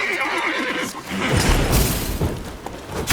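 A loud horse neigh and whinny in The Witcher 3 rings out amid game thuds, hoofbeats and clatter, with a fuller burst of noise midway.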